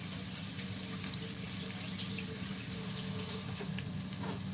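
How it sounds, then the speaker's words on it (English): Tap water runs steadily into a sink while hands are rinsed, a constant close splashing flow with slight shifts as the hands move under it, no speech. "let me rinse my hands off"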